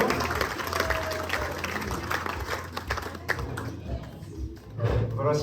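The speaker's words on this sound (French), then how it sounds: "Mesdames, mesdemoiselles, messieurs, un plein d'applaudissements pour Sylviane." Dinner-party audience applauding for Sylviane at a 70th-anniversary celebration, steady dense clapping throughout with crowd murmur and a voice speaking over it, swelling again near the end.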